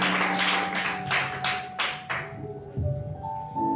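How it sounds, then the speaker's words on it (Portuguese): A church congregation claps together in a series of loud, rhythmic bursts that thin out and fade partway through. Steady musical tones sound under the claps, with a few softer taps near the end. "As palmas exaltem o Senhor"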